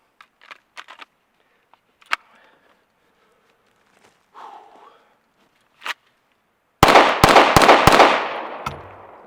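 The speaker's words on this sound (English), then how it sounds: "That was just 3 shots." Three sharp, loud gunshots from a custom Glock 19 pistol fitted with a Radian compensator, firing 115 grain ammunition outdoors in quick succession near the end after quiet clicks and handling sounds.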